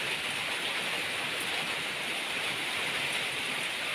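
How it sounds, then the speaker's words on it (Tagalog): Rain pours down steadily outside a rural home after a heavy downpour, forming a dense, even hiss of drops on surfaces that holds constant throughout, with no voices. "Buti huminahina na ang ulan,"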